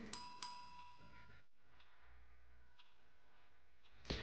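Two quick chime tones from a bell in the game The Shattering, rung to call an elevator, bright and close, followed by quiet ambience and a final click.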